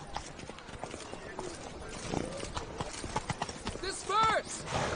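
Hooves of the horse Roach clip-clop at a gallop in The Witcher video game, moderately loud and continuous, with a brief neigh toward the end. Background game sounds and voices are mixed in.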